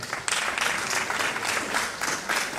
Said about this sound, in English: Please, let's give him a round of applause again.